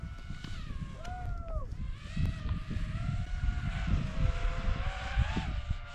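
A camera drone hovers and manoeuvres outdoors at a BASE jump site, its propellers giving a whining, buzzing hum that rises and falls in pitch over gusty wind rumble.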